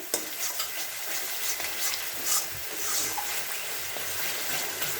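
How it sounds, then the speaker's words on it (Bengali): Luchi puffing in hot oil on one burner while masala sautés for chickpea dal on the other, a steady close sizzle and bubbling crackle filling the whole stretch with faint scraping, no voices. "একদিকে হচ্ছে লুচি হচ্ছে আর একদিকে হচ্ছে মশলা কষানো হচ্ছে ছোলার ডালে"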